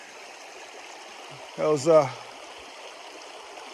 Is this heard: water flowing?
yes